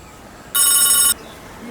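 A telephone bell rings once in a single loud, bright burst of about half a second, standing out sharply against a quiet indoor background.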